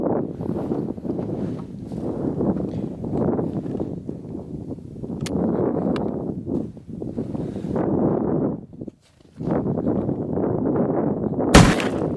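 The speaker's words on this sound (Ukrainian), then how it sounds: "Наступний постріл А0" Several loud rifle gunshots from a powder test boom at intervals amid steady wind noise, with a sharp crack near the end; distant and rough, no speech.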